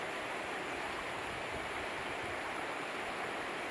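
Steady broadband rush of the Haw River flowing below a bridge in North Carolina, a continuous even wash of moving water with no talk.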